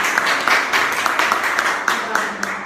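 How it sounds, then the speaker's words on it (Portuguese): An audience at a live network-marketing training event claps steadily, with sharp individual hand claps standing out over a dense, continuous round of applause that carries on throughout. "Então uma salva de palmas para a Elza."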